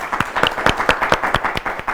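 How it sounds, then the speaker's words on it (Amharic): Studio audience clapping for students on a children's quiz show, a modest burst of fairly close hand claps in a loose rhythm lasting a couple of seconds. "ለድፍረት አጨብጭቡላችሁ።"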